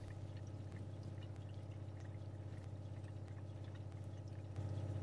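Water pouring steadily into the hot water tank of a motorhome boiler while the plumbing system is being primed, a continuous close rushing flow that grows slightly louder near the end.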